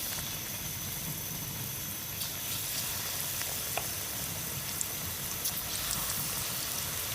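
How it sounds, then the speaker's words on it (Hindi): Pakora batter frying in hot oil in a kadhai, a steady broadband sizzle and crackle running throughout with a few faint pops, no voices. "अब हम थोड़े थोड़े से बैटर डाल के पकौड़े फ्राई कर लेते हैं।"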